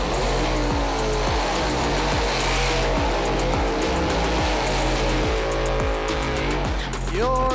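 Drag race cars at a Street Outlaws No Prep Kings Grade 8 Finals race, engines roaring at a steady loud level with rhythmic revving and rising pitch toward the end, continuous throughout.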